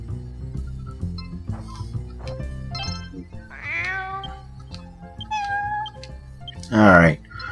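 Cat meowing in the Dragon Quest Swords video game, several drawn-out meows over game music, ending in one louder, higher cry.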